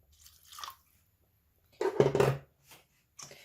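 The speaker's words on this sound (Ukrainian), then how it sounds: "Все таким чином перемішали і додали сюди трошки водички." Water poured into minced meat filling for chebureki, giving soft wet squelches and a short splashy pour close by, separated by brief pauses.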